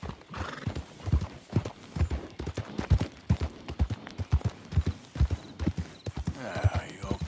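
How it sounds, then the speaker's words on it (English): Rhythmic hoof clip-clops of a horse in the video game Red Dead Redemption 2, steady and close, with a neigh near the end. "That's a fine horse."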